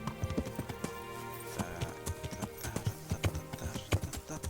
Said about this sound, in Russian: Погнала лошадь.